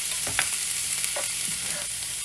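Vegetables and onions sauté in a pan, giving a constant close sizzle broken by a few soft scrapes and clacks of stirring, with no one speaking.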